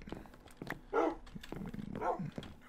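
A dog in the Minecraft video game barks twice, in two short, moderately loud bursts about a second apart, over faint background noise.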